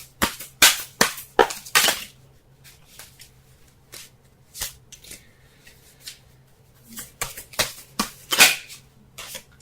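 Tarot cards being shuffled close by in a series of sharp slapping and riffling bursts, clustered at the start and again near the end with quieter gaps between, and no one talking.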